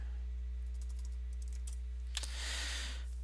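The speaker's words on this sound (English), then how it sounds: "I'm typing him a message right here." Quiet typing on a computer keyboard in a gaming setting, a soft scatter of clicks over a steady low hum, with a sharper burst of keystrokes near the end and no talk.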